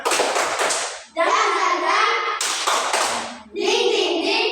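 Schoolchildren in an Indonesian classroom do a rhythmic spirit clap: quick bursts of clapping alternate with chanted group voices, each round starting with close, sharp claps before the children's chorus.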